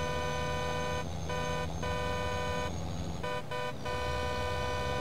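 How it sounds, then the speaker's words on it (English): A truck's air horn in a farming video game blares in long steady tones, cut by several short breaks into repeated honks, loud and close over a constant engine drone. "Is this got an air horn?"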